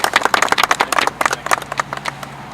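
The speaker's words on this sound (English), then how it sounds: "Let's give him a round of applause." A small audience at an outdoor headstone dedication gives a round of applause: dense, uneven hand claps that fade out toward the end, close and fairly loud.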